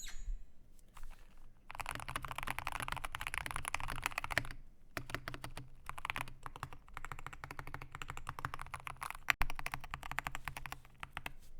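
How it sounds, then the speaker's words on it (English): Fast, continuous typing on a Keychron Q15 Max ortholinear mechanical keyboard, a dense run of soft, smooth keystrokes with brief pauses near the start, heard close and fairly quiet. "listen to this keyboard"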